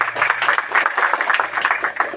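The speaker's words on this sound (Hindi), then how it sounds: "आज हम पहले हम ताली बजाते हैं परमेश्वर में खुशी से।" A church congregation claps together in joyful worship, a dense, steady patter of many hands, loud and close throughout with little else audible.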